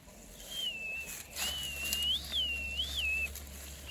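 A person whistles a wavering tune with rising and falling swoops, fairly close, over a quiet background hum, with brief pauses between phrases.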